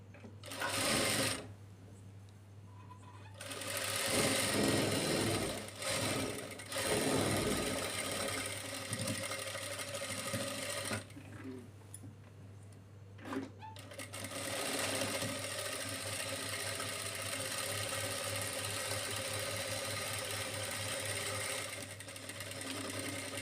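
Sewing machine stitching side seams of a lehenga bodice, running in several bursts of fast even whirring with short pauses between, close and clear with no talk.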